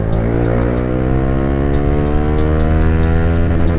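A 2016 Honda CBR150R motorcycle engine holds a steady, loud, buzzing drone with a smoothly rising pitch, as if revving up through a gear during a test ride, with no talking.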